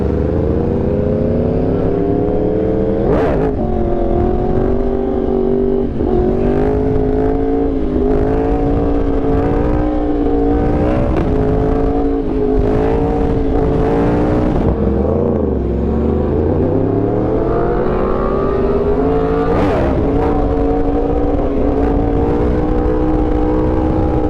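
Yamaha R1 motorcycle engine held at high revs through a wheelie, a loud continuous whine that rises and falls in pitch with throttle changes and dips sharply once midway, with wind rush throughout.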